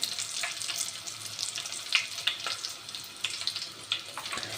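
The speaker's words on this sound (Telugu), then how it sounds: "వాటన్నిటిని 1 minute అలా ఫ్రై చేసేసాను" Whole cloves, cardamom, cinnamon and bay leaf frying in oil for a meal maker pulao give a soft, crackly sizzle with small scattered pops.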